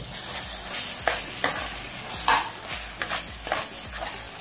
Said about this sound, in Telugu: ఇదంతా మనం హై ఫ్లేమ్లో కాకుండా మీడియం ఫ్లేమ్లో పెట్టుకొని మనం ఫ్రై చేసుకుందాం